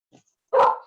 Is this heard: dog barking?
yes